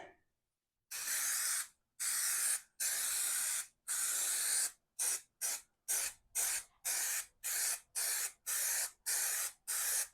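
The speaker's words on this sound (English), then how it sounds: "And we'll do a coat on this guy." Aerosol spray paint coating a metal bench seat part from a 1992 Toyota pickup, starting with four long hissing bursts and then a quick run of short, even spurts, close and loud with no talking.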